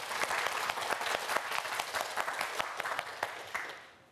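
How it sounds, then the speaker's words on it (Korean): Audience applause rings out for students competing in a televised quiz show, a dense burst of clapping that holds steady and then fades away at the end. "우리 함께 큰 박수로 응원을 해주시기 바랍니다"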